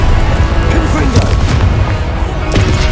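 Explosive spell blasts booming in a Hogwarts Legacy duel, dense rumbling impacts layered with combat effects and shouted incantations, loud and continuous throughout.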